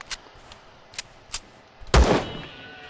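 Gunfire in the science-fiction survival game Empyrion - Galactic Survival: several short, sharp single shots spaced irregularly, ending in one louder, closer blast with a ringing tail, over a quiet background.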